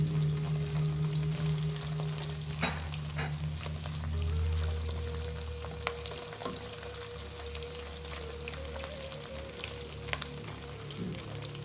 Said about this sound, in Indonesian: Setelah itu kita goreng terinya ya.